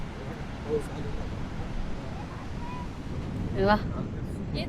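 Surf washing onto Ganeshgule beach on the Konkan coast: a continuous soft roar of waves mixed with wind buffeting, while people talk faintly nearby.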